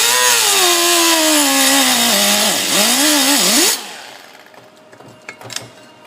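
A power cutting tool slices through the metal ribs of a Ford A/C compressor clutch, whining loudly and steadily with a pitch that sags and wavers under load for several seconds before cutting off, leaving quiet shop noise and small clanks.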